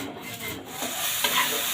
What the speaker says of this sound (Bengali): আলুর দম তৈরি করার জন্য আমি একটু গরম মশলা বেটে নিচ্ছি।